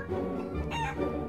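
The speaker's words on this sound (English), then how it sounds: "It was a hen with bright golden feathers. "Help," she clucked." A hen clucks and squawks in a short, close burst, its voice rising sharply midway.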